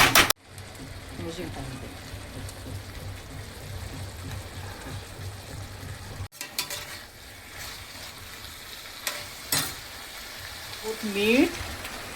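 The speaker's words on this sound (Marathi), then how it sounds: "छान एकदम चिकन बघा कसं छान परतून होत आहे. गॅस थोडी फास्ट केलेली आहे." Chicken sautéing in a kadai over a high gas flame, a continuous sizzle with scraping stirs, with a person talking over the cooking throughout.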